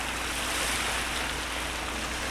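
Surf at Akumal rolling and breaking on a beach under a full moon at night, blending with wind into a steady, loud, unbroken wash of water noise with no voices.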